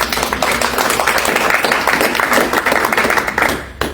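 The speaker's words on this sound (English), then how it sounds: "So round of applause for all of you." Audience applause at a health talk, a broad wash of clapping from many people sustained for several seconds before tapering off near the end.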